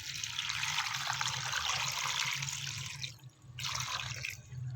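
Water from a jug pours steadily into a pressure cooker holding spices and trotters, a close, continuous splashing stream that briefly stops before resuming for a second pour.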